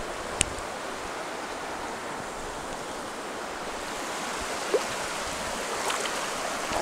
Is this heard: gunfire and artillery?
no